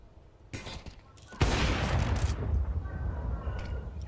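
Sniper rifle fire in a Counter-Strike match, a loud AWP shot arriving sharply and trailing into a sustained crackling echo, preceded by a fainter earlier burst.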